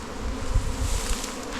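Dense, steady buzzing of many bees around a colony in a beehive during an inspection, close and continuous with slight swells in loudness, no voices.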